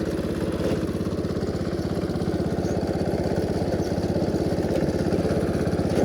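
John Deere 110/112 lawn tractor driving in second gear, its small engine chugging loud and close with a steady rapid pulsing beat and a constant mechanical drone throughout.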